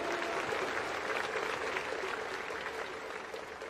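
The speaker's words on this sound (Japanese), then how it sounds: "どうぞファンの皆さん大きな拍手をお送りください。" Stadium crowd applause for a baseball hero interview after a Hanshin vs DeNA game at Kyocera Dome: dense, continuous clapping from a large crowd that stays steady throughout, with no voice over it.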